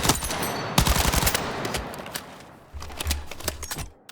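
An SMG fires full auto in Battlefield 6, a rapid rattle of close gunshots in two long bursts separated by a short pause, with no talk over it.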